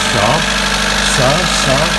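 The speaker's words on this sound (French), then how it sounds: "quand on redémarre, le moteur il fait des accélérations, il ralentit, il réaccélère" A Citroen AX / Peugeot 106 petrol engine idles steadily after a restart, its pitch rising and falling as revs surge and drop, close and loud.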